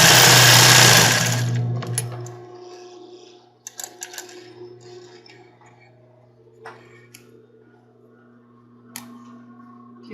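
A sewing machine runs in a fast, loud burst of backstitching for about two seconds, then stops. Scattered light clicks and handling taps follow over a faint hum.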